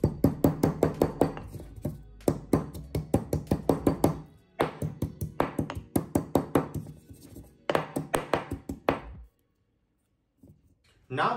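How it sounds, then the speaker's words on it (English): Fresh coriander leaves chopped with a knife on a board: rapid, crisp rhythmic chops in several bursts with short pauses, close and clear, then stopping near the end. "Now we just gonna chop some fresh coriander leaves"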